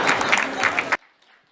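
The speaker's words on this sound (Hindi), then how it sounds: "पति लोग तालियां बजा रहे हैं" Audience applause at a Hindi comedy poetry stage show, a dense burst of clapping that stops abruptly near the end, leaving faint room noise.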